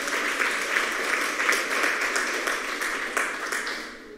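A group applauds, with dense, steady clapping close by that continues throughout and fades slightly at the end.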